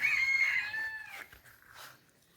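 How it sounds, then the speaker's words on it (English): An agitated chicken in a backyard garden lets out loud, close, harmonic squawking calls, strongest in the first second and then trailing off into a few quieter clucks. No one speaks. "There is so much life in this garden, and one angry chicken in the yard."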